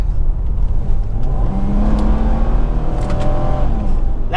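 A mini bike's small engine revs hard and steady with a rising whine, loud and close, sustained throughout without speech.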